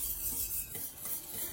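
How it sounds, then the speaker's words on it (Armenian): A spoon or whisk stirs a thickening cream mixture in a pot on the stove for tiramisu-flavoured ice cream, making a continuous soft scraping and swishing sound, close and steady. "Այսպես անընդհատ խառնելով եփում ենք եւ մի փոքր թանձրանա"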